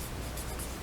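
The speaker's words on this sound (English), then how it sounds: "I'm just going to write magnesium" A pen scratches briefly across paper, writing out the word magnesium by hand, a short continuous close scraping under faint background noise.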